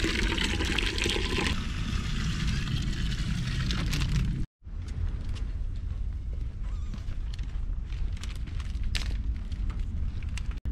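Water poured from a cup at a grave in Japan splashes and pours steadily for several seconds, a short pause, then more trickling and pouring close by.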